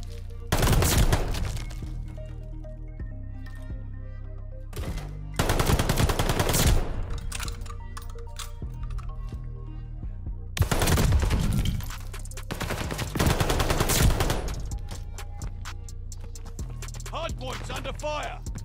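Gunfire in a Call of Duty: Vanguard Hardpoint match, loud bursts of automatic fire in several long volleys with quieter gaps between, under game announcer callouts.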